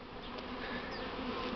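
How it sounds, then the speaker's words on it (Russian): A swarm of Buckfast honeybees produces a dense, continuous buzzing drone, close and steady, with no voices over it. "И вышел с моих хваленых бакфастов рой."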